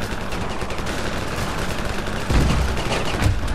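Gunfire in the video game Ravenfield, on a new map called Last Stand: a steady, dense crackle of shots throughout, with a heavier, louder burst of close-range fire near the end.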